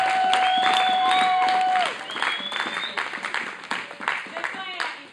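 A church congregation at a women's convention claps and cheers loudly together, with a held shout over the applause before the crowd noise thins toward the end.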